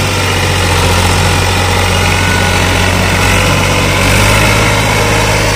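An old tractor engine runs in third gear low while pulling a 16-disc harrow, a loud, steady, dense drone that holds constant throughout, with no talk over it.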